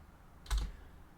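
A single short burst of keystrokes on a computer keyboard while entering a terminal command, a quick close clatter lasting about a quarter second in a quiet room.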